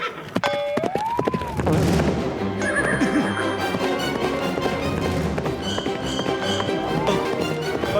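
A cartoon horse whinnies loudly near the start, followed by busy stamping and hoof clatter under dramatic background music.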